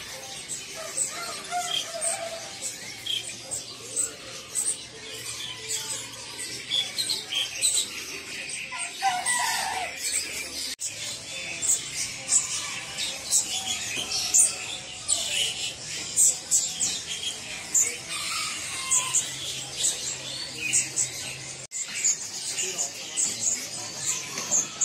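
A bird kiosk at Pramuka bird market holds caged birds, including zebra doves, chirping and tweeting in a dense, continuous chorus of varied calls, with rooster-like crowing mixed in and market bustle behind.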